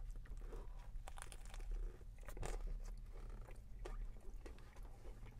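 Close, quiet crunchy bites and wet chewing of an A&W smoked gouda burger with barbecue sauce, a few soft crunches spread over several seconds with no talk.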